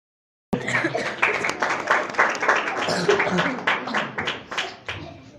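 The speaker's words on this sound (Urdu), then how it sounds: "یہ تالیاں تو ہیں بھرپور تالیاں نہیں ہیں" Audience applause at a church sermon: dense, sustained clapping that starts abruptly, stays fairly loud for several seconds and then begins to thin out.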